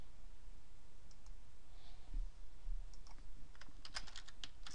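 Computer keyboard typing in short bursts of light clicks, sparse at first and then a quicker run of keystrokes toward the end, close and fairly quiet over a low room hum.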